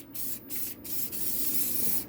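Short bursts of spray paint hiss from a can onto an ornament pendant, several quick sprays followed by a longer continuous spray, close and fairly quiet.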